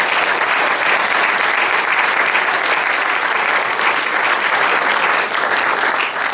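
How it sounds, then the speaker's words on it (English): Sustained, loud applause from a crowd honouring master's graduates at a fall university mathematics graduation ceremony, a dense, even wash of clapping that holds steady throughout with no pauses. "let's give all the master's graduates a round of applause"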